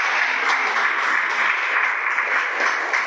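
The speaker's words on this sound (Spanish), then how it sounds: "Damos un aplauso a la palabra del Señor." A church congregation gives a steady, dense round of applause, loud and close, with many hands clapping continuously and evenly throughout.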